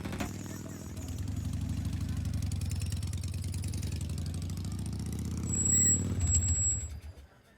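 A motorcycle engine runs steadily at close range with an even, throbbing idle. It swells louder near the end and then cuts off abruptly.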